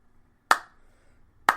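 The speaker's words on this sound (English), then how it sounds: "you're going to get a slow clap right here" A slow clap of two sharp, isolated handclaps about a second apart, close and distinct against near silence.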